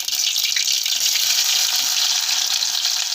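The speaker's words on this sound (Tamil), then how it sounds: "இப்போ கடுகு போட்டாச்சு." Mustard seeds sputter and crackle in hot oil in a pan, the start of a curd-based vegetable kurma, giving a steady, close, bright sizzling hiss with fine popping throughout and no talk.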